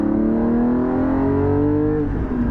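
A Porsche 718 GT4 fitted with a Soul exhaust is heard from inside the cabin as its engine revs up in a smooth, loud, rising drone that eases off near the end.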